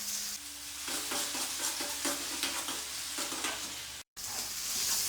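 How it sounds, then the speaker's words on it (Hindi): Garlic ginger paste fries in a karahi for a beef curry, with a steady sizzle and repeated scraping stirs of a spoon against the pan, close up with no voices. "लहसुन अदरक के पेस्ट को हमने 1 मिनट फ्राई कर लिया है।"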